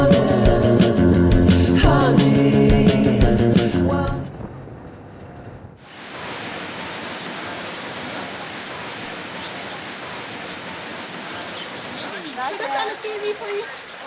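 A waterfall on the Damajagua river in the Dominican Republic, one of its 27 cascades, makes a steady broadband rush that settles in after loud music cuts out, continuing evenly at moderate distance with a brief rise near the end.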